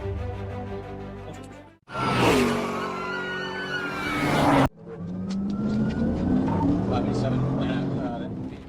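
A Mercedes speeds away from police in a street chase, its engine revving and whooshing loudly with passing traffic, cut by an abrupt scene change, and a narrator talks over the roaring car.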